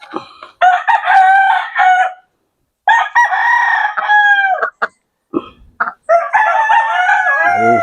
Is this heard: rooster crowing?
yes